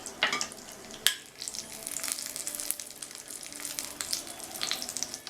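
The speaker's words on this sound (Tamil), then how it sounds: "அதில் 10-12 போல் முந்திரியை சேர்த்து வறுத்துக்கலாம்" Cashews sizzle and crackle in hot ghee, with a couple of sharp clinks early on and a steady frying hiss continuing underneath.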